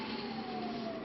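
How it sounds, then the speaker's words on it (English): A siren wails steadily with a long, slightly falling tone, heard briefly over a rumbling vehicle background. "Remember, when you hear that siren"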